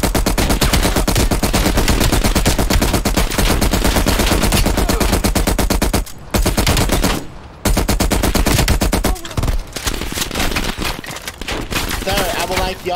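Dense, sustained gunfire from the Call of Duty Cold War campaign, loud rapid automatic bursts nearly continuous with brief gaps, mixed with game battle noise and faint voices.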